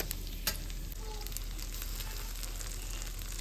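Cooked rice is mixed in a pan with puliyogare gojju and a little oil, producing a steady, close sizzle with soft stirring scrapes throughout.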